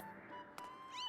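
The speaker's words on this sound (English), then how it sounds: "she looked when Mia meowed" A house cat named Mia gives a single soft, short meow, faint and close, over a quiet background with a faint steady tone.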